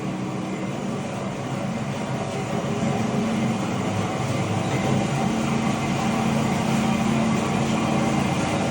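Tannewitz TR2014W vertical bandsaw running as its blade cuts a small aluminum piece, a continuous loud mechanical drone with a broad hiss that stays steady from start to finish, close by.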